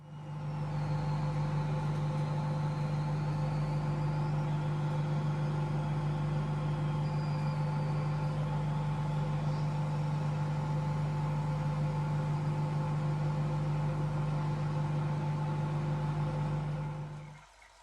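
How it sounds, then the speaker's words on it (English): A microwave oven runs while cooking a turnip (neep), a steady loud mains hum with a constant fan drone lasting nearly eighteen seconds before cutting off abruptly at the end. "now that we've finished the half an hour in a microwave"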